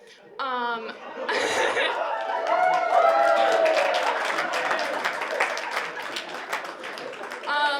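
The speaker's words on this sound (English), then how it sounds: "Don't clap!" A stand-up comedy audience breaks into sustained, dense applause mixed with chuckles and laughter, with a voice speaking briefly at the start and again at the end.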